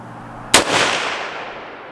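One loud, sharp rifle shot from a Palmetto State Armory PA-10 Gen 3 with a Ballistic Advantage barrel cracks once at an outdoor target range, then rolls off in a long echoing decay with no talk.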